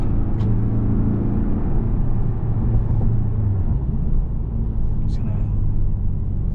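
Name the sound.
Porsche 718 Boxster driving, PDK transmission shifting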